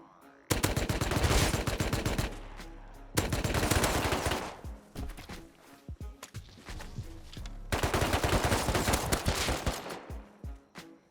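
Automatic gunfire in the video game Rust, three long rapid bursts of machine-gun fire separated by short pauses, loud and close, with scattered single shots between bursts.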